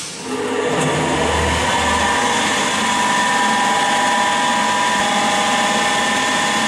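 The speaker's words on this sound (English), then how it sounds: "Switch on the air blower, keeping the delivery valve in closed position." An air blower on a forced convection heat transfer lab rig starts up and runs with a loud, steady whirring roar and constant hum, close by with no speech.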